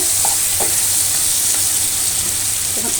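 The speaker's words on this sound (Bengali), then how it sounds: "মাছগুলো ভালোভাবে কষাই নেব।" Tiger prawns stir-fried in a pan for a pumpkin curry, a steady loud sizzle with scraping stirs throughout, no voices.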